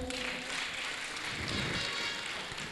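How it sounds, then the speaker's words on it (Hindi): An audience at a Jain sermon by Aryika Swasti Bhushan Mata Ji applauds the local women's group with a steady, dense wash of many hands clapping, fairly soft and distant, continuing evenly without talk. "आपके यहाँ के महिला मंडल के लिए एक बार ताली बजा दो।"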